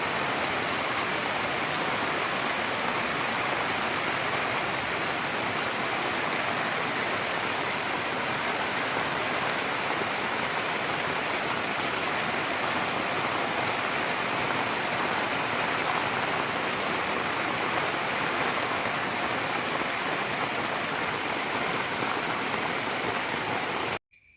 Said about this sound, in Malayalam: രണ്ട് ദിവസമായിട്ട് നല്ല മഴയൊക്കെ പെയ്യുന്നുണ്ട്